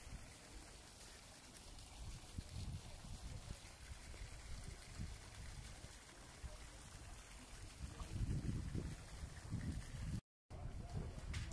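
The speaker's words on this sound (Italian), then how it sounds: "una bellissima fontana all'ingresso dell'hotel" A fountain at a hotel entrance in the Marrakech medina splashes with a continuous, faint trickle of water under low street ambience and occasional murmured voices, briefly cutting out near the end.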